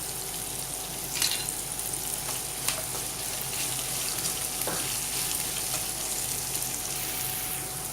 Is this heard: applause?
no